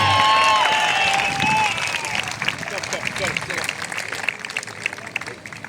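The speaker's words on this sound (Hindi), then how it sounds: "और अब दोस्तों लंबी सांस लेके जोरदार तालियों के साथ स्वागत कीजिए श्री नवीन जिंदल" Loud crowd applause and cheering greet a guest at a polo-related event in India, with a speaker's voice and tonal sounds heard over the dense clapping at the start before the applause continues steadily.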